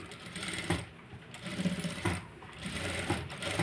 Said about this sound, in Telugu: ఇలా చక్కగా మనం ఎడ్జ్కి కుట్టు అనేది వేసుకోవాలి.